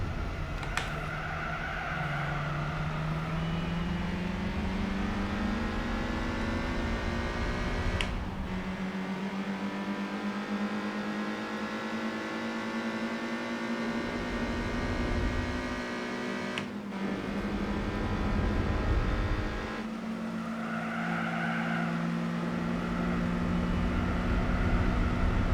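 A 1964 Ginetta race car in Gran Turismo 4, its engine droning steadily and rising in pitch through the gears, with brief dips where it shifts or lifts off.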